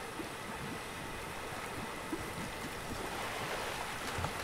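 River water flowing steadily in a video game while a character swims, a constant broadband rushing wash at moderate level with faint splashy ticks scattered through it and no voices.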